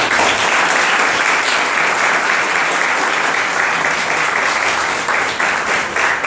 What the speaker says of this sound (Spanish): Denles un fuerte aplauso, por favor.